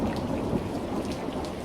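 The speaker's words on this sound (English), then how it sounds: "The smashing of tiles joins the roar of the storm as a hailstorm" A thunderstorm with hail lashing a tavern roof, a dense steady roar of heavy rain and rumbling thunder, loud and continuous with no voices.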